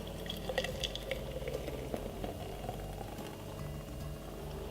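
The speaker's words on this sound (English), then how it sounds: "now it's time to pour it into this gorgeous jar" Mango milkshake is poured into a jar, a quiet continuous liquid trickle and splash with faint dripping, low and close, with no talk.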